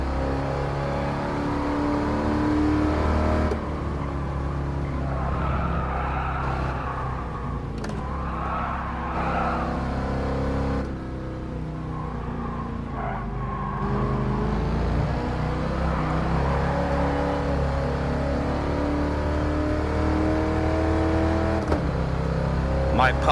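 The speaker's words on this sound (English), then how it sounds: "It's making a lot of tire noise, but this old TransAm drives pretty good" A 1978 Trans Am racing in Gran Turismo Sport, a steady droning engine with rising and falling revs and persistent tire squeal, loud and continuous while someone talks over it.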